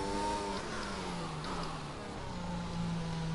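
Racing car engine in the F1 2021 game at Baku, a steady mid-pitched drone with gliding pitch lines as revs rise and fall through an easy warm-up lap, continuous and fairly quiet.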